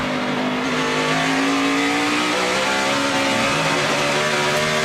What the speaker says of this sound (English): Suspension cam on Jamie McMurray's car.